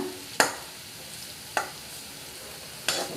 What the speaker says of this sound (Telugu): ఉసిరికాయ ముక్కలు కొంచెం మెత్తపడే వరకు ఫ్రై చేసుకోవాలి